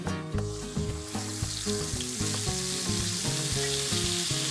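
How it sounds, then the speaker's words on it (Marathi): Chili and spice paste fries in hot oil in a wok, giving a steady, close sizzle throughout, with rhythmic tonal music running underneath. "तेल गरम झाल्यावर यामध्ये मिरची आणि मसाल्याची जी आपण पेस्ट तयार करून घेतलेली होती ती घालायची"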